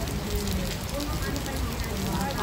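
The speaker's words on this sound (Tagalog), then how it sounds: "Lakas ng ulan, guys." Heavy rain pours steadily during a rainy summer festival outing, a dense, loud, unbroken hiss and patter filling the whole moment without any break.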